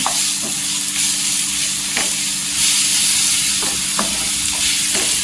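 Ginger-garlic paste sizzles in hot oil after golden onions in a home kitchen, a steady loud frying hiss with a few brief stirring scrapes, alone with no talk.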